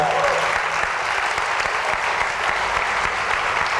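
Church congregation applauding steadily throughout, a dense, loud wash of clapping with a faint voice underneath.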